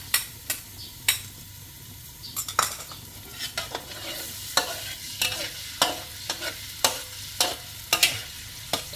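Chopped garlic stir-fries in a pan with a constant sizzle, broken by repeated sharp metallic scrapes and clanks of a spatula at an uneven rhythm, close and fairly loud. No one speaks.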